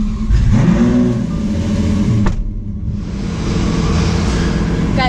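A Lamborghini Aventador S drives off with its engine rising in a low, throaty rumble, dipping briefly, then settling into a steady drone, heard from inside the car at close range.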